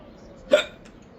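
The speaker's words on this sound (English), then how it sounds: "Hiccup is caused by spice." One sharp, abrupt hiccup from a person who has just eaten spicy rice, a single short vocal catch in otherwise quiet surroundings.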